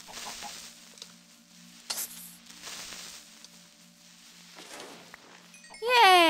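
Minecraft chickens clucking in scattered soft calls over quiet game ambience, with a voice speaking briefly near the end.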